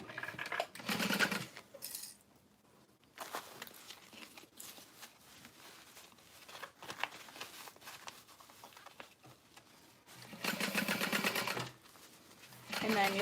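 Sewing machine stitching a seam on a tote bag, short bursts of rapid mechanical chatter at the start and end with quieter gaps between, close by, with talk in between.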